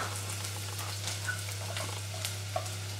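Onion and garlic frying in oil in a pan, a soft steady sizzle with small crackles and pops and a constant low hum beneath, no voices.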